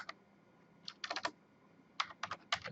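Typing on a computer keyboard while entering an address into a web browser, with two short bursts of rapid key presses separated by a pause, close and fairly quiet with no voices.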